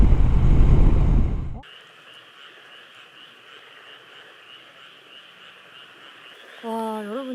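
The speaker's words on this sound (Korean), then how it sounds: "여러분 개구리 소리가 들리시나요?" After a loud burst of noise cuts off, a steady chorus of frogs croaks and trills in the distance across a quiet rural night in Yecheon, North Gyeongsang, South Korea, with a voice briefly at the end.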